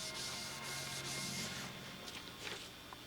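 Sandpaper rubbing a feather edge into silver paint on a motorcycle part, steady close scratchy strokes in repeated passes, quiet and alone.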